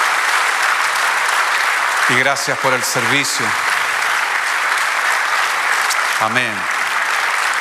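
A church congregation applauds in a sustained, loud wash of clapping while a pastor speaks over it in Spanish.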